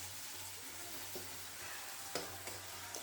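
Crushed garlic frying in oil for egg curry, stirred in a pan, gives a faint steady sizzle with a few soft scraping clicks from the stirring.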